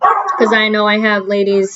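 A pet dog indoors gives a few short barks and yips, mixed under someone speaking steadily at close range.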